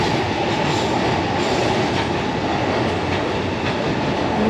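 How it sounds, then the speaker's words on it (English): A train passing in Tokyo makes a steady, loud rumble with rail clatter that holds for several seconds without a break, and no voices are heard over it. "The trains here are so cool. Look at that cool train."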